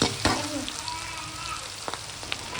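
Onions and tomatoes frying together in a pan, a close steady sizzle with scattered stirring clicks and scrapes.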